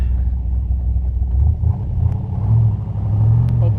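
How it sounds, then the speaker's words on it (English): A 1967 Chevrolet Corvette Stingray 427 convertible with side pipes rumbles loud and close as it runs through the gears on a farm road, a deep steady engine drone with no voices. "Side pipes roar."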